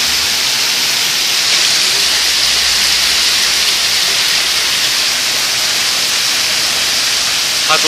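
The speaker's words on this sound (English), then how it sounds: "You can see water coming off the roof and the pure major flood of water" Heavy rain in a downpour sends water pouring off a roof and out of the gutters, a loud, dense, continuous hiss and rush with no break and no voices.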